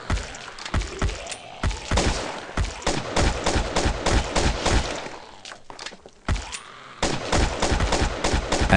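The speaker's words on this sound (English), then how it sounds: "This one is an FPS zombie shooting game" Rapid rounds of gunfire crack close and loud in the FPS zombie shooter Dead on Duty, steady bursts of shots with brief pauses between volleys and no talking.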